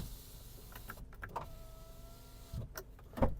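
Power windows in a fresh-imported 1.6 MPI Volkswagen Caddy whir briefly a few times with a motor hum, some soft clicks, and a sharp thump at the end, all fairly quiet inside the car.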